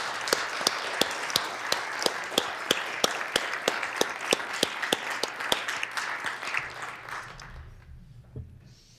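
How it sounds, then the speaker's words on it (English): Audience applause in a South Dakota Senate chamber welcoming a guest professor: dense, steady clapping with sharp accented claps for about seven seconds, then quickly dying away into quiet room tone. "give her a round of applause and thank her for being here"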